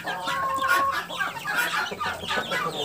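Chicks peep busily while brooding hens cluck softly, a close, continuous flock chatter with no talking.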